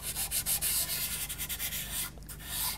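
Soft, steady scratchy rubbing of a white pastel pencil across a paper drawing of a hill, repeated strokes with a brief pause near the end, close and alone.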